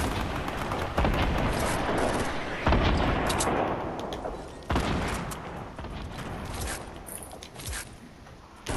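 Gunfire in a Fortnite 50-versus-50 match, where a Tommy gun has just been picked up, comes as several heavy, booming bursts with ringing decays over rough background game noise.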